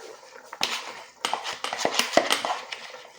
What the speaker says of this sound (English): So I'll go in with some palm oil.